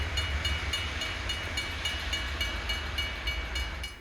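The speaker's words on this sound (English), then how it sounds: "Finger Lakes Railway train SH2 returning to Solvay Yard." A Finger Lakes Railway freight train rumbles past steadily in snowy New York State, with rhythmic clacking of wheels over rail joints, a continuous low roar throughout.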